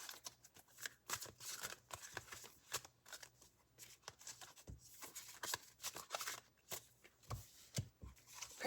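Tarot cards being shuffled close by, soft riffles and slaps arriving in quick irregular bursts, fairly quiet and with no talking.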